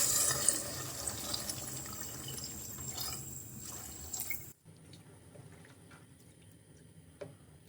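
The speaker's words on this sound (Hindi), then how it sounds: "अब हम इसमें पानी ऐड करेंगे ताकि चिकन अच्छे से गल जाए।" Water pours into a pot of chicken bhuna in a home kitchen, a close, splashing rush that stops abruptly partway through, followed by quieter drips and faint kitchen noise.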